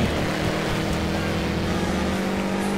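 A steady, droning racing engine from the PSP game Sega Rally Revo roars continuously at a constant pitch, loud and unchanging throughout with no pauses.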